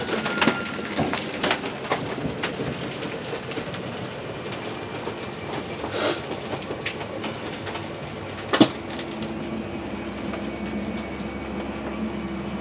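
A 2015 Keystone Springdale 270LE RV slide-out runs outward with a steady mechanical rumble and grinding hum, with scattered clicks and a sharper clack near the end.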